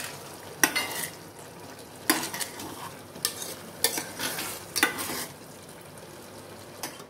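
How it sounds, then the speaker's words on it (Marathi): Coconut jaggery rice with dry fruits being gently stirred in a pot, a series of soft scraping strokes at uneven intervals, close by over a quiet background with faint sizzling. "आता मी हे थोडं हलक्या हाताने असं हलवून घेते, म्हणजे तांदूळ मोडणार नाही."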